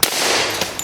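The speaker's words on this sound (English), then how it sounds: "Let's shoot these things right here." A single shot from a new suppressed pistol makes a muffled, sharp pop at the start, followed by faint clicks and a brief noisy tail.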